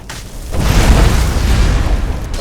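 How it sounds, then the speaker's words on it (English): An explosion in the video game Skyrim as an undead enemy is killed: a deep, loud boom that swells after a brief lead-in and rumbles on steadily to the end. "there's the explosion that happens when she kills an undead that turned the other one"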